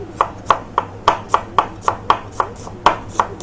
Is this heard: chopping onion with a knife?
yes